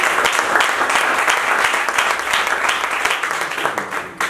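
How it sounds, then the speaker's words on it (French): Church audience applauding their leader, sustained dense clapping that stays loud and even, tapering slightly near the end. "Est-ce qu'on peut applaudir notre responsable?"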